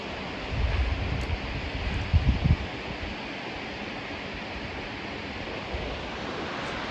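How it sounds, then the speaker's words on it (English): Steady broadband rush of mountain waterfalls beside a hiking trail near Gunsight Lake, a continuous roar of falling water with low wind buffeting on the microphone early on. "Waterfalls are just incredible."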